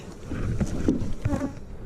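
Close, continuous buzzing of honey bees during honey harvesting, a dense droning hum with a few individual bees passing nearer the microphone.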